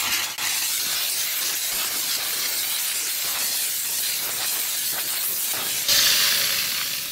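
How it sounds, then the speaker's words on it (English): A car-detailing steamer blasts steam onto a car door jamb and kick plate, a loud continuous hiss running without pause and briefly growing harsher near the end, with no voices. "hit the steam on."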